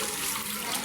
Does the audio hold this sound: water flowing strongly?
yes